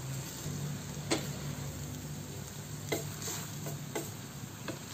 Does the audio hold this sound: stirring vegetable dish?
yes